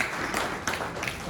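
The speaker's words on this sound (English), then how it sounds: "You can only clap for him" School students in a classroom clap briefly for a classmate, a short burst of scattered hand claps heard at close range.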